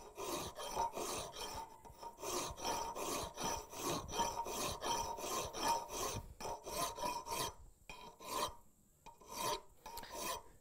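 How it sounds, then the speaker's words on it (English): A metal hand file rolled through each stroke to round over an edge, giving steady close rasping scrapes in a fast repeated rhythm, with a few brief pauses near the end and no talking. "Now I'm going to start rolling the file as I go through the stroke."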